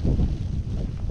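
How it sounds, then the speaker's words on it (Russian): A blizzard gusts across snowy Ai-Petri mountain in Crimea, wind roaring and buffeting hard against the microphone in a loud, rough burst, with no speech. "Там, смотрите, вообще метель дует, ветер, снег так гонит сильно."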